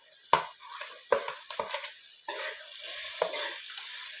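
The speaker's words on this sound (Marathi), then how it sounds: "गोदर हे सगळं असं मिक्स करून घ्यायचं आहे हे बघा ही बटाटा आता याच्यात टाकून घेणार आहे" Spiced kachori filling with potato being stirred and mashed in a frying pan, a few scraping spoon strokes over a soft, steady sizzle, close and moderately loud.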